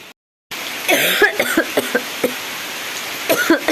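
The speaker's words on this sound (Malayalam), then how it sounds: "ചുമ കൊണ്ട് ഒരു രക്ഷയില്ല ഭയങ്കര പനി" A person coughs repeatedly up close: a burst of short, harsh coughs, a pause, then a few more.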